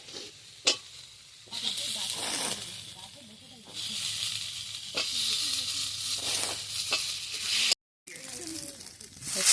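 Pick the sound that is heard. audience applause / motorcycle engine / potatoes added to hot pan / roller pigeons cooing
potatoes added to hot pan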